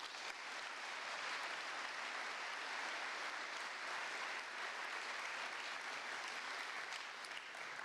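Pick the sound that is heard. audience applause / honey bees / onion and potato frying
audience applause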